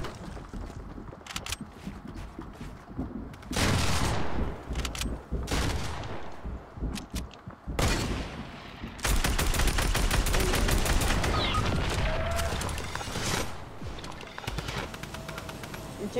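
Gunfire in Fortnite's John Wick bounty limited-time mode, sharp single shots early, then dense rapid bursts and sustained volleys of automatic fire, loud and close, with bird calls in the background.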